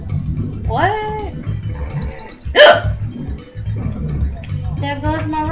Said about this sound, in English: Fucking hiccups are fucking me up.